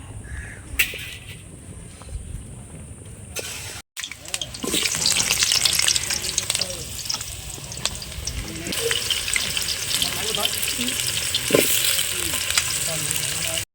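Chopped onions and green chillies hit hot oil in a home kitchen, setting off a sudden loud sizzle after a quieter stretch, with stirring and faint background sounds around it.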